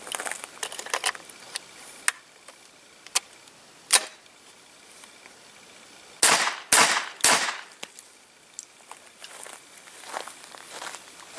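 A Hi-Point 995 carbine with a tactical stock fires cast bullets outdoors, a few sharp cracks spread out, including a quick cluster of three loud reports, between quieter clicks and handling noises.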